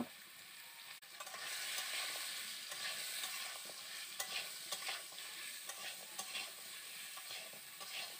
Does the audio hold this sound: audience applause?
no